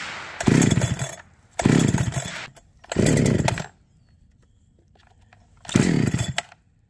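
Neotec NH872 chainsaw, a Husqvarna 372xp clone, being pull-started with the choke out: four separate bursts of cord-pull engine cranking, each roughly a second long with pauses between, close and fairly loud, without the engine catching.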